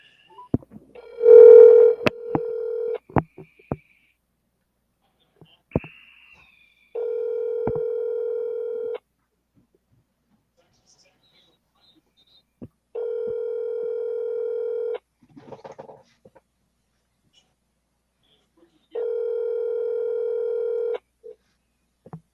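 Outgoing telephone call tone while dialing back a rescue unit, a steady electronic tone repeating in evenly spaced two-second bursts with long silent gaps, loud and clean with a couple of brief clicks between.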